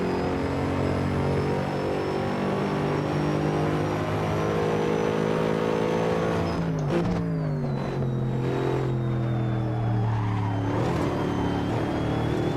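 A Mercedes SLS AMG GT3 race car in Assetto Corsa at the Nürburgring roars loud and close, holding a high-revving engine note before a sharp shift, then downshifts and the pitch drops and climbs again.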